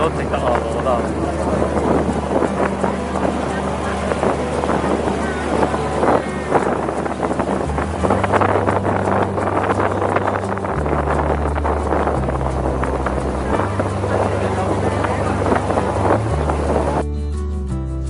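A boat crossing the sea in northeast Hong Kong gives a continuous low engine rumble with gusting wind buffeting the microphone and splashing water, near and loud; a voice speaks intermittently over the noise.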